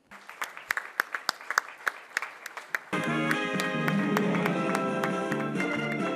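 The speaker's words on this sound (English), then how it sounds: "let the applause keep coming" Sparse, distinct claps from a business summit audience greeting award winners, a few crisp hand claps near the start before loud music with a steady beat takes over and covers the remaining clapping.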